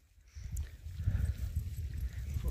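Horse hooves clip-clop in a steady walking rhythm on a ride near a lake in Skardu, the muffled beats fairly close under a low outdoor rumble.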